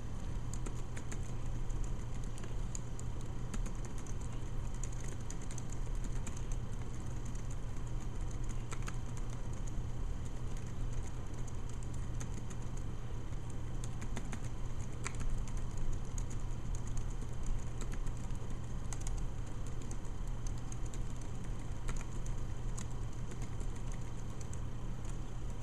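Steady typing on a Logitech fold-up iPad keyboard, a continuous patter of light, quick key clicks at close range over a faint constant hum, with no talking.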